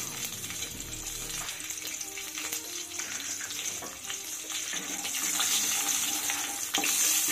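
Green chillies and nigella seeds sizzle steadily in hot mustard oil, a continuous close frying hiss that grows slightly louder toward the end, with no talking.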